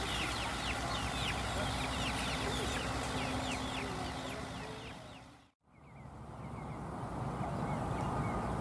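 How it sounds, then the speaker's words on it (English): A pen full of chickens clucks and chatters continuously outdoors, many overlapping bird calls forming a dense, fairly loud chorus broken once by a short gap. "and it's full of chickens."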